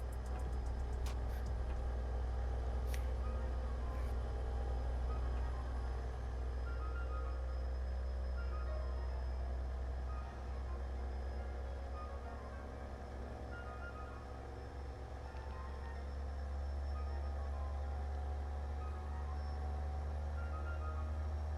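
A deep, steady truck engine drone with the engine brake engaged rumbles continuously in a tunnel in a truck driving video game, with a faint high whine above it and a few brief clicks near the start.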